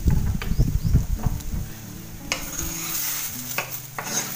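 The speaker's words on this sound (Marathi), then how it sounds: "आता मी ही भेंडी एका दुसऱ्या भांड्यामध्ये काढते" Roasted okra (bhindi) is scraped and tipped from a kadhai into another pot, with a burst of close metal clatter and stirring at first, then a softer sizzle with a few light knocks.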